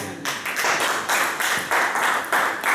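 A church congregation claps loudly and rhythmically in unison, steady pulsing beats close by with a faint hint of a voice underneath.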